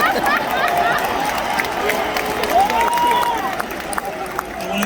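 Yankee Stadium crowd during a Derek Jeter tribute, a broad, steady roar of cheering and applause that stays loud and distant throughout, with voices in the crowd.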